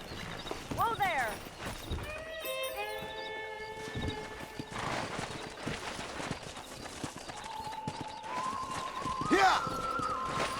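Wild horses in the Red Dead Redemption video game, with hoofbeats clip-clopping and several neighs and whinnies rising over a busy game soundscape, close and fairly loud throughout.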